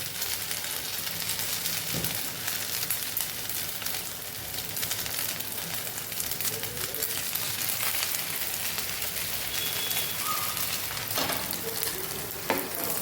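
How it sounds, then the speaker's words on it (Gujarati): Leftover-rice snack dough frying in hot oil, a steady dense sizzle running throughout with occasional sharper pops and crackles, close and even, no voices. "એને પણ આપણે તળી લેવાનું છે આવી રીતે"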